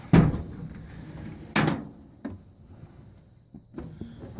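A drawer on a home tool box, the one holding sockets, slides open with a sharp, close clatter, followed by a second clunk and a few smaller rattles and knocks as metal parts settle.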